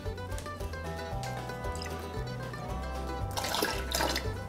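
Rose's lime juice splashes into a pitcher of homemade margarita mix made with thawed lemonade concentrate, a brief bright pour near the end over soft background music.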